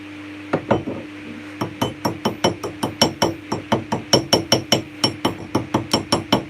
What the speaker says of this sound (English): let's get that slag out